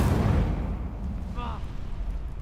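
Fiery spell blasts in Hogwarts Legacy during a dueling tournament, a loud rumbling burst rolling continuously through the short moment with a brief tonal chime partway in.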